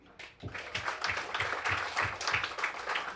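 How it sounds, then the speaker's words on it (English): Audience at a youth leadership breakfast applauding for J.C. Cooley, a full round of clapping that swells from a soft start into a steady, lively wash of many hands. "can we give a real round of applause for J.C. Cooley?"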